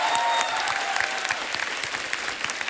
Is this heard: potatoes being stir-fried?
no